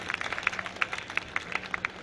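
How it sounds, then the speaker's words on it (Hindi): An audience at a Hindi kavi sammelan applauds to welcome poet Praveen Shukla, a brief burst of scattered hand claps that sounds fairly faint and somewhat distant. "एक बार तालियां बजा करके भाई प्रवीण जी का स्वागत"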